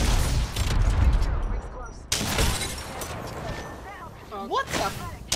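Gunfire in Apex Legends: bursts of rapid shots and impacts crackle through the first couple of seconds, then another volley, with players talking over the fighting near the end.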